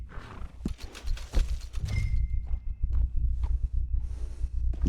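A horse in Red Dead Redemption 2 snorting and shuffling its hooves close by, with low rumbling breaths and scattered thuds over an ambient outdoor game background.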